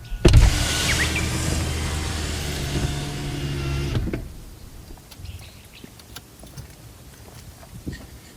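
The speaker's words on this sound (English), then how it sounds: "make sure that all the windows are open" Power windows on a Toyota RAV4 whirring as they lower for about four seconds, a steady motor hum with a thud at the start and a click at the end, then quiet cabin ambience.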